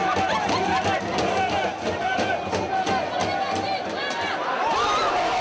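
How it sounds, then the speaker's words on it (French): Agitated, disorganized riot crowd confronting police at the Gare du Nord station in Paris, a dense continuous roar of shouting voices and hubbub with scattered yells, loud and close throughout. "Une foule désorganisée mais très énervée fait face aux forces de l'ordre."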